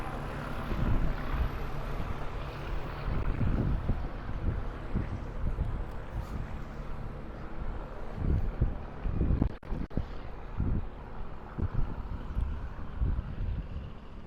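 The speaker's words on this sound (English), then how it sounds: "That exhaust is for an older exhaust for the science rooms." Steady rushing exhaust airflow from an older ventilation outlet serving school science rooms, heard inside an underground tunnel, a continuous low roar with a few brief thumps and shuffles, no talking.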